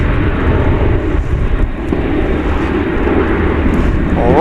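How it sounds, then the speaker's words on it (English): American Airlines 737-800 jet landing at Dallas Fort Worth airport, a steady loud engine roar with low rumble close by, throughout and alone, rising slightly near the end. "Another 737-800 is now getting ready to land."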